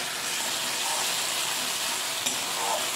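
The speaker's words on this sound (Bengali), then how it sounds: "যে বাটা মশলাটা করে রেখেছিলাম এবার ফোড়নে দিয়ে দেবো।" Ground spice paste fries in hot oil in a wok with bay leaf, cumin and dried chilli, giving a loud, steady, close hiss and sizzle throughout.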